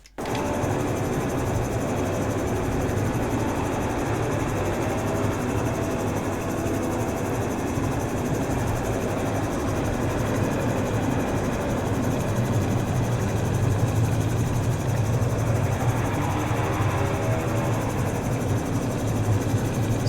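A gyroplane engine drones loudly and without a break in flight, during a power pushover demonstration. The pitch and intensity shift slightly as the power changes.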